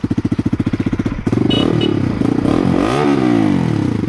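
A motorcycle engine idles with a fast, even thumping pulse, then revs up into a loud, rising and falling roar, close by with no talk.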